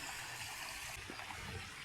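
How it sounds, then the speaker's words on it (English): Water flowing over a small waterfall in the city on a Vienna hiking trail, a faint, steady rushing hiss heard alone in a brief moment. "It's nice to hear the sound of water flowing"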